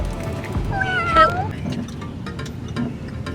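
A Scottish Fold cat at a cat café lets out a single clear, drawn-out meow at close range, followed by quieter indoor background noise.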